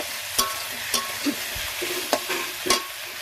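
Potatoes and onions sizzle steadily in a hot pan while a utensil scrapes and stirs them in a few sharp, separate strokes, close by with no talking.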